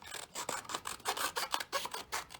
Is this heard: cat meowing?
no